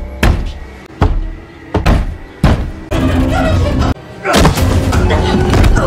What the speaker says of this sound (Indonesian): menuju ke rumah itu untuk mengetuk sebanyak 9 kali